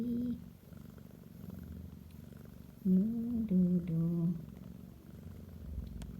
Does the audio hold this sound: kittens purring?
yes